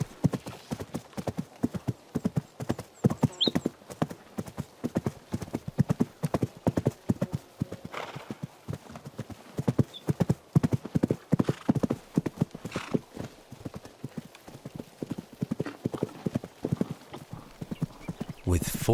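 Young foals galloping over the ground in the Tian Shan mountains, their hooves drumming a rapid, irregular clip-clop that stays close and steady throughout, with a brief whinny and a narrator speaking over it.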